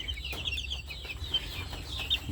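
Pet chickens, young gamefowl of several breeds, cluck and chirp softly in their pen, a scatter of short calls over low background rumble.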